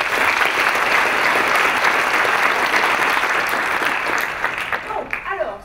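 Sustained applause from an audience at a hydraulic-works conference interlude, dense and steady for most of the clip, then thinning into scattered claps and a few voices near the end.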